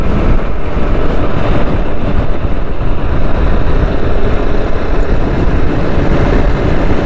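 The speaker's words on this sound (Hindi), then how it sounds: "बहुत शदीद हवा चल रही है, ये देखें।" A violent windstorm roars across a motorcycle's microphone as the bike rides slowly through Baloch Colony, a loud, constant rumbling buffet with no break.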